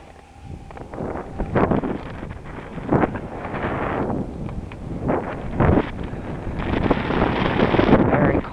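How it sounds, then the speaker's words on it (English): Loud, gusty roar of a cold northerly wind buffeting the microphone during a bicycle ride along Dundas, surging and easing in broad swells that fill the whole stretch, with no clear speech over it. "We got a nice northerly coming down here."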